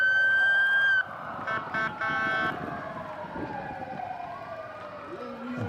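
Police car sirens at a St Patrick's Day parade, with a loud wailing siren and short yelp bursts early on, then sweeping wails fading into the crowd and street noise.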